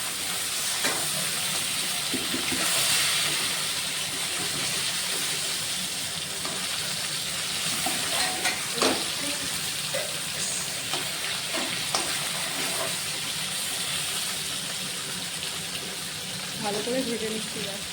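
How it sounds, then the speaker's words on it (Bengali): Fish heads frying in oil, a continuous crackling sizzle with intermittent scraping and stirring clatters from a pan, steady and close throughout, with occasional louder pops. "মাছগুলোকে ভালো করে ভেজে নেব"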